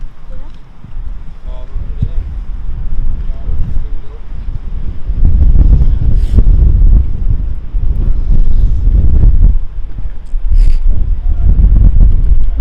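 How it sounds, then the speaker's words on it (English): Strong wind on a cold day at an outdoor fishing pond batters the microphone with heavy, gusting low rumble that swells and dips throughout and grows louder toward the middle. "Very cold and windy day today."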